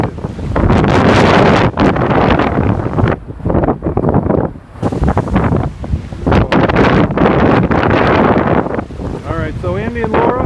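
Massive waves crash and roar through heavy wind buffeting in a winter storm at Humarock, loud and continuous with surging bursts, and brief voices partly under the din.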